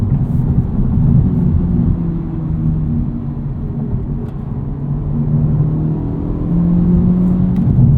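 A 2023 Honda Civic Type R accelerates hard, its engine droning loud and steady with rising and falling pitch as it pulls through the gears, alone without talk.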